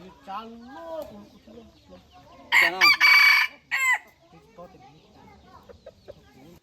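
An F1 rooster crows loudly once, a long strained cock-a-doodle-doo call, with softer clucking and faint voices around it.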